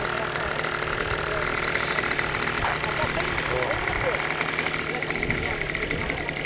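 A model airplane engine runs steadily at an airfield, a continuous buzzing drone held at even loudness throughout, with people talking nearby over it.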